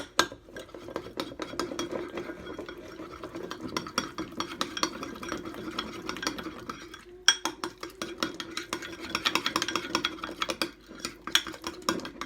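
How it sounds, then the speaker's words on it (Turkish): A spoon stirring a thick mixture with tomato paste in a bowl, steady close scraping and tapping against the sides with a brief pause midway, and no voices. "Bunu güzel böyle karıştırıyoruz."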